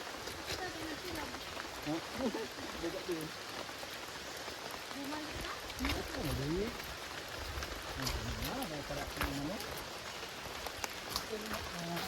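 Rain falls steadily and heavily outdoors, a constant hiss close by with scattered drops, while voices talk faintly underneath.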